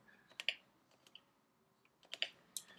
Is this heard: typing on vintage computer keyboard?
yes